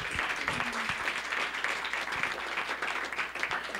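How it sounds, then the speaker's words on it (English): A church congregation at a Sunday service applauds in a dense, sustained wash of clapping that runs the whole time, with no voices standing out. "Round of applause for the board."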